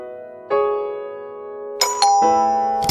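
A doorbell rings indoors in two rounds of bright, resonant ding-dong chimes, each tone ringing on and overlapping the next, with a short quiet gap between the rounds.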